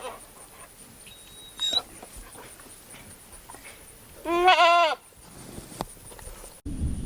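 Goats bleat loudly nearby, a long wavering bleat in the middle with a shorter call earlier, over quiet background noise and a brief whistle-like tone.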